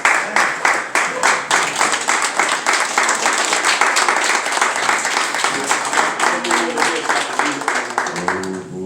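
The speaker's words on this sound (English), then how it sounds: "Let's receive him with a hand clap." Church audience at a clergy council holiday brunch gives a standing round of hand clapping to welcome a police commissioner; dense, steady applause fills the room throughout, with a voice and some low tones emerging near the end.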